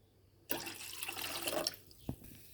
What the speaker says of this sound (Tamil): 1 கப் வெல்லத்துக்கு 2 கப் தண்ணி ஆட் பண்ணிக்கோங்க.